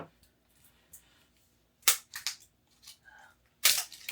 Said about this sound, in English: There's always something exciting when you hear that crack or that open of any bottle.